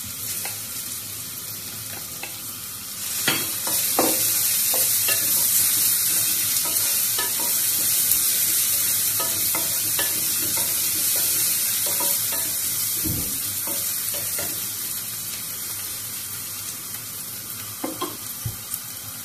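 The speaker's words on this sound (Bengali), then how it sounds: "তেল গরম হয়ে গেছে, আমি রসুন দিলাইলাম" Garlic dropped into hot oil for a Bengali dry fish chutney, a strong steady sizzle that starts abruptly and holds on, with occasional stirring clicks and scrapes over the frying.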